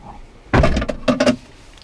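Cabinet doors in a 5.98 m, 3.5 t motorhome are opened, giving a short burst of thuds and clicks followed by a few quick latch rattles, close and fairly loud, with no talking.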